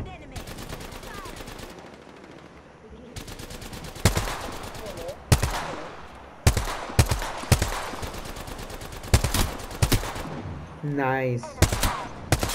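Repeated bursts of video-game gunfire, some rapid automatic volleys and some single loud shots, crack through the scene between pauses, with a player talking briefly over the action.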